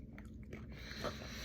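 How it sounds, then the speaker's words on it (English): A mint is chewed up close: quick moist crunching and mouth clicks come in a short run, loud against a low steady background. "Gotta chew my mint."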